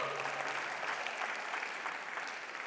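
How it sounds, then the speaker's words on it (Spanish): Steady applause from a church congregation at an evening service, a dense wash of many hands clapping continuously at moderate distance with no voices standing out. "Le damos un aplauso fuerte al Señor en esta noche"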